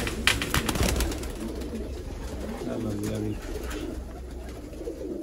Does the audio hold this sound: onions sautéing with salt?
no